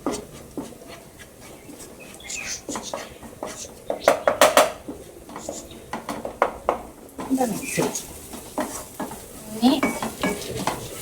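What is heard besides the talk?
coriander powder being roasted and stirred in pan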